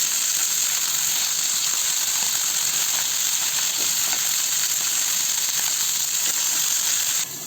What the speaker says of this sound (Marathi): लसणाच्या पाकळ्या आणि हिरव्या मिरच्या आहे. आता हे आपण छान परतून घेऊया. आपण मी फास्ट गॅसवर भाजून घेतोय.